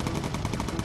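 Machine-gun fire from a bomber's turret in Bomber Crew rattles in a rapid, dense, continuous burst, loud and close, with no talk over it.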